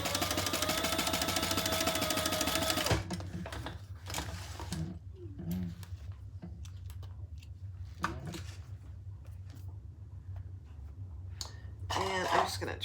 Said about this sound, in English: We're just going to sew 2 pieces together.